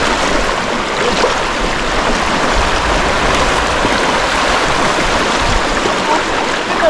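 A warm, shallow river flowing steadily on a day trip near Islamabad, Pakistan, a loud, continuous close-up wash of rushing water with no pauses and no voices.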